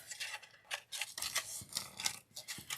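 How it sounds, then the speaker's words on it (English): Scissors snip through a piece of ribbon for a craft bucket decoration, several crisp separate cuts close by at an irregular rhythm with no talking. "Let me cut off a piece right here with my scissors."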